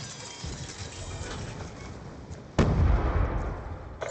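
Hellstorm missile strike explosions in Call of Duty Black Ops 2 multiplayer: rumbling battlefield noise, then a sudden loud blast about halfway through that booms and lingers, with no talk over it.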